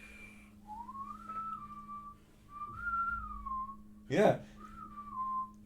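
A person whistles a pair of gliding notes imitating a bird, rising then falling, repeated a few times at moderate volume, with a brief sharp noise and a short spoken word in between.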